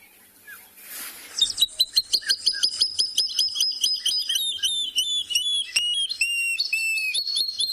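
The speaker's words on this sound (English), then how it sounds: "And that's the call of the water thickney." Water thick-knee call played back from a phone app at a dam at sunrise: a rapid series of rising, piping whistles that starts with soft noise, then quickens and wavers into a loud, sustained, clear whistling chorus.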